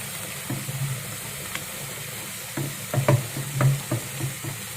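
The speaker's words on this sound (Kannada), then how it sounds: "ಎಣ್ಣೆ ಬಿಸಿಗಿಟ್ಟು ಒಂದೊಂದೇ ಅದ್ದಿ ಈ ಥರ ಹಿಂಗೆ ಹಾಕೋದು" Bajji batter pieces dropped one by one into hot oil that was already used for frying papad, giving soft bubbling sizzles with a few sharper crackles and pops, near and alone.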